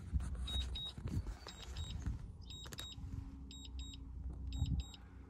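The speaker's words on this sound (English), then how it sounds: "it likes to freak you out and just beep at you and stand there for a second" Quiet, high electronic beeps sound in short paired bursts, repeating several times over a low rumbling background hum.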